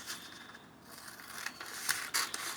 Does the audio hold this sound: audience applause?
no